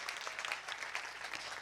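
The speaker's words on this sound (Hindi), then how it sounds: "आए जोरदार तालियां यीशु की फतह के लिए बजा दीजिए।" A church congregation at a Palm Sunday service applauds, a steady dense patter of many hands, moderately distant and even throughout.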